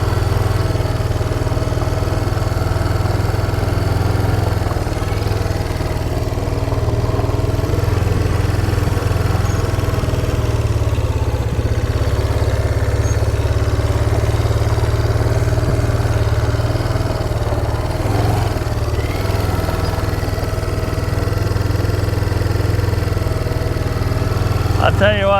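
A 1998 Kawasaki KLF300B four-wheeler idles steadily and close by, its low engine drone holding an even rumble throughout with no one speaking.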